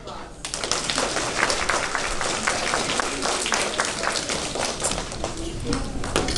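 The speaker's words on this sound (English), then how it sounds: "I just wanted to give her a round of applause" Applause from a group in a classroom setting, a steady clatter of clapping hands lasting several seconds with some taps and thumps mixed in, fairly close and continuous.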